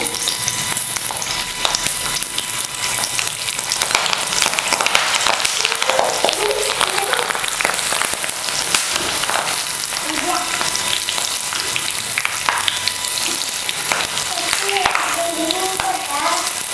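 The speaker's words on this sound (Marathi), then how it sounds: "तर आता तेलामध्ये सोडते मिरची आणि चांगलंच आपण हे तळून घेऊया" Green chillies frying in hot oil for village-style egg pakoda, a steady loud sizzle with crackling bursts throughout, brief clinks of stirring, and faint background voices.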